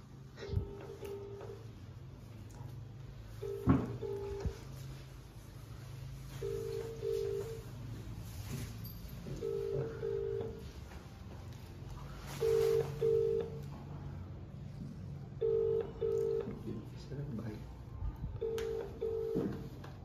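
An outgoing phone call rings out unanswered, its ringback tone repeating about six times in evenly spaced double pulses, quiet and steady over faint room noise.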